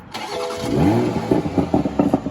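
A 2020 Toyota Supra Launch Edition fires up in sport mode, its engine catching with a rising crank-and-flare after a brief pause, then settling into a loud, burbling idle with blips close by.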